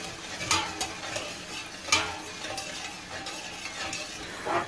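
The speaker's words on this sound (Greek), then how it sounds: "Ανακατεύουμε λιγάκι." A spoon stirs salted water in a pot on the stove, waiting for it to boil for pasta, making a few soft scraping and clinking strokes over a low, steady hiss.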